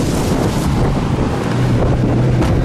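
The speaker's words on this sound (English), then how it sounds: "It is so windy." Strong wind roars and buffets the microphone continuously, a loud steady rumble with gusty texture and no voices.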